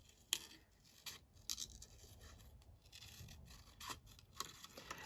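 Scissors snipping through paper for a junk journal craft project, a few quiet, crisp cuts spaced irregularly with soft rustling between them, close and faint.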